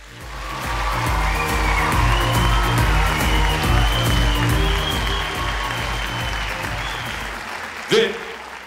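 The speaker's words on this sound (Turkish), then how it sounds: "Bu alkışlarınız işte onları eğiten sevgili öğretmenlerimiz için olsun" Sustained audience applause for the teachers at a Turkish song contest grand final, steady and full for about seven seconds, then tapering off with a brief bump near the end; music-like tones run underneath.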